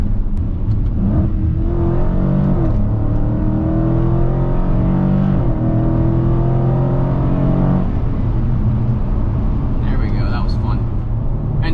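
A 2020 Dodge Challenger Scat Pack accelerating hard up an entrance ramp through paddle-shifted gears, a loud, deep engine roar rising in pitch and dropping at each shift, heard from inside the car while someone talks over it.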